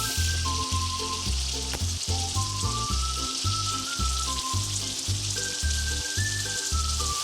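Pork fries in a dry wok with no oil added, giving a loud, steady sizzle and crackle that fills the whole stretch, with a rhythmic low tonal pattern running underneath.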